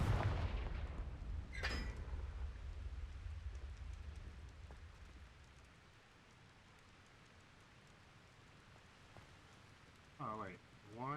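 Confringo fire-spell explosions in the video game Hogwarts Legacy: a loud booming blast opens with a sharp crack soon after, then a rumbling, crackling tail fades over several seconds into quieter ambience, with a brief chirping sound near the end.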